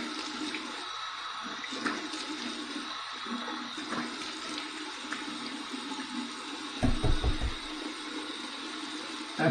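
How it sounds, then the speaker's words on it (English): Warm water runs from a tap for a rinse after shaving in a bathroom, a steady rushing flow throughout with a brief splashing burst near the end. "Here's my warm water rinse."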